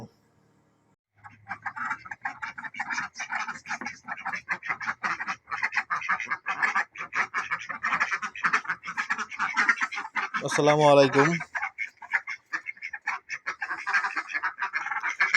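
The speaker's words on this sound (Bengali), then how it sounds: "আমাদের হাঁস তারপর মুরগি" A flock of ducks quacks continuously nearby, loud and busy, while a person speaks a short greeting over them.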